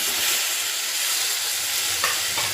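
Two small chopped tomatoes go into a hot pan with turmeric and are stirred, producing a continuous close sizzle and hiss with faint stirring scrapes and no voices.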